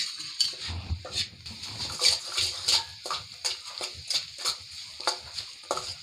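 A halwa mixture stirred in a pan, a spoon scraping and clinking against the metal in a steady rhythm of short strokes, close and moderately loud, with no talking.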